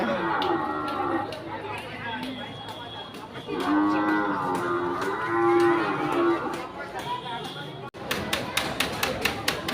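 Large cattle moo loudly and repeatedly, several long, drawn-out calls over a busy crowd of chattering voices. A few sharp claps or knocks come near the end.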